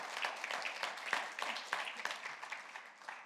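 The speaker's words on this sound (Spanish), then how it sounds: "Le da ese aplauso fuerte" Applause from a church congregation at a Tuesday evening service, a steady wash of many hands clapping at moderate loudness that gradually thins toward the end.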